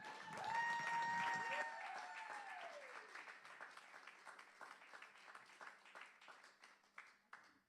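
A live audience at The Bedford applauds and cheers for a singer, loud whoops and sliding shouts at first, then dense clapping that thins into scattered, fading claps.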